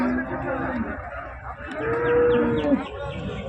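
Cattle at the Karungalpalayam cattle market in Erode, including a sturdy young cow, low distinct moos, two long drawn calls over busy crowd chatter and market bustle.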